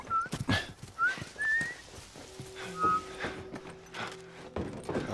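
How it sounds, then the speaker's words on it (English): A character whistles in The Last of Us, a series of short rising whistled notes repeated in a loose tune over scattered clattering and footsteps, with a faint sustained tone underneath later on. "I'm whistling."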